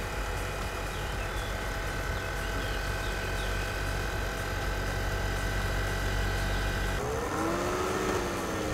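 A construction vehicle in the simulation game Conworld drives across a building site, its steady engine drone holding loud and continuous, then shifting to a lower, wavering pitch near the end.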